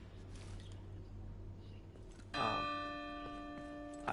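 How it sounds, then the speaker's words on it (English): A single church bell toll rings out in the Division 2 video game, striking loudly and then holding a long, ringing decay over a steady low ambient rumble. "Alright, so there's one bell toll."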